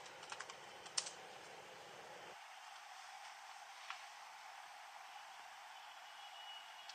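Someone types a password on a computer keyboard: a quick run of soft, close keystrokes, then a few isolated taps over a quiet hiss.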